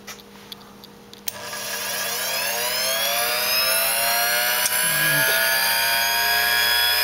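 A mini bench grinder and polisher with a flexible shaft switches on after a click and spins up to a steady, loud high-pitched whine whose tone rises as it reaches speed, then holds a constant drone.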